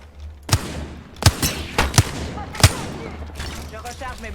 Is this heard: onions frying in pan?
no